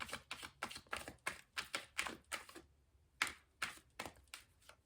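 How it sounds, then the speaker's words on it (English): Tarot cards being shuffled by hand in a quiet room, a run of crisp riffling bursts in quick rhythm, a short pause, then more bursts, close and alone. "I'm shuffling quite a lot"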